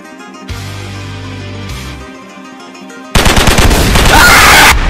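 Rapid bursts of gunfire in an animated short film about a school bully, loud and dense in the final seconds after a quieter stretch with a low sustained tone.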